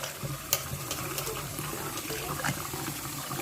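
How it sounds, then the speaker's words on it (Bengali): Lentils are rinsed under a running kitchen tap, a steady close stream of splashing water with small clinks, continuous throughout and without speech. "ডালটাকে ধুয়ে নিই।"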